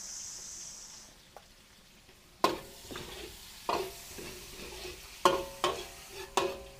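Garlic and onion sautéing in a pan: a light sizzle under sharp, irregular clacks of a utensil stirring against the pan, the scraping strikes coming every second or so after a quiet start.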